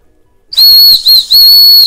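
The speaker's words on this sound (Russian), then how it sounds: "Вот за 5 секунд свисточек." A handmade clay whistle with no air chamber is blown in three sharp, shrill high-pitched blasts, each close and loud, with brief gaps between them.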